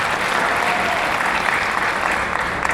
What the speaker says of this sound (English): Yeah, we can clap for that one too.